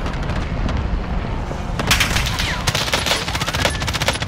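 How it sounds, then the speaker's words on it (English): Close machine-gun fire and bursts of shots in Call of Duty on the Caldera map, loud and continuous with sharp cracks that thicken partway through. "Oh, someone just shot at me."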